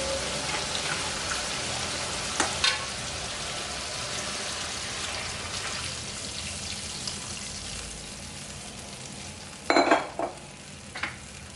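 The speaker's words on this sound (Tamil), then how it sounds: "இப்போ நம்ம குழம்பு எடுத்து இதை ஊற்றிடலாம்" Chettinad dried-fish curry gravy pours into a hot pan and sizzles steadily, with a couple of louder splashy bursts near the end; no talking.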